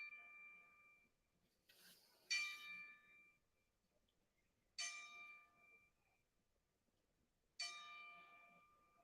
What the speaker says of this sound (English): We're doing a 10-bell salute